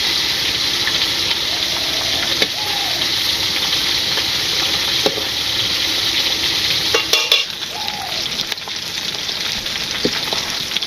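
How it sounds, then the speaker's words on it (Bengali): Fish pieces fry in hot oil in a pan in a village kitchen, giving a loud, continuous close sizzle with occasional spatters and brief scraping stirs, and no talk over it. "তো মাছ ভেজে নিতেছি।"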